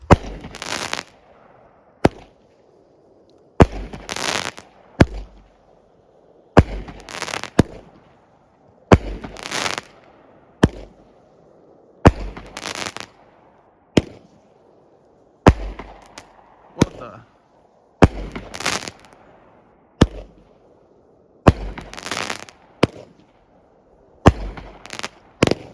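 A Top Gun Fireworks Fantastic Thunder 200-gram cake fires a long series of sharp reports, each launch followed by a loud bang, in an uneven rhythm for over twenty seconds. It ends in a triple-shot finale, heard from a moderate outdoor distance.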